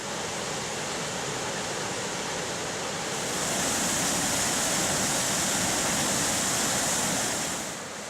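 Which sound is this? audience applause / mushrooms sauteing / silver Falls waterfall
silver Falls waterfall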